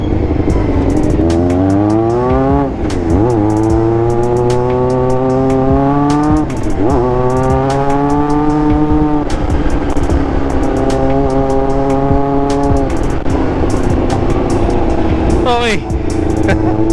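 A Honda CB1 NC27 motorcycle engine being ridden, revving up through the gears in repeated rising pulls with brief drops between shifts, loud and close throughout.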